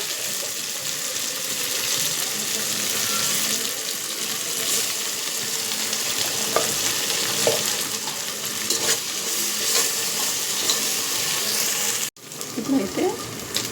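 Mint leaves and ginger garlic paste frying in oil for a prawn biryani, giving a steady, even sizzle that carries on throughout with a few light stirring clicks near the end.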